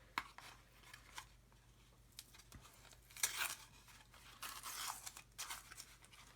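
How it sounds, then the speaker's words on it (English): Cheap masking tape peeling off a plastic model kit, heard as soft tearing and crinkling strips, one brighter rip in the middle and a longer rustling peel near the end, faint and close, with no talking. "So we can take the tape off now."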